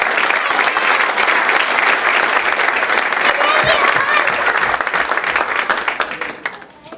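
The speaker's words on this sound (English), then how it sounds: "Can we get another round of applause for the young" Applause from an audience at a Martin Luther King Jr. community breakfast, honoring young program participants; dense, loud clapping that holds steady, then thins and fades toward the end, with faint voices mixed in.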